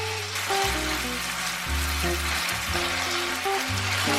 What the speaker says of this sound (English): Stir fry until the beef is half cooked.